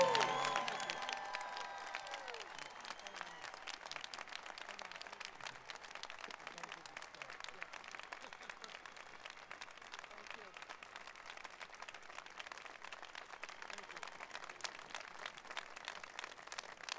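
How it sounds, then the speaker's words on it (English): Applause from a graduation audience for a college president at St. Petersburg College, starting with a brief voice then settling into a steady, distant wash of clapping from a large hall crowd. "Please give a round of applause to your president"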